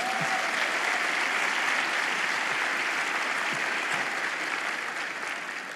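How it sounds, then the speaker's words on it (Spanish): A church congregation claps steadily for about six seconds in a dense, sustained wash of applause that fills the hall, then fades slightly at the end. "Un aplauso a Jesús."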